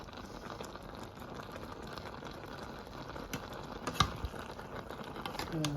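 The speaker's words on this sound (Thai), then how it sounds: "น้ำเดือดปักปักปักปัก" A pot of water boils steadily with a continuous bubbling hiss, quiet and close, a small clink near the end.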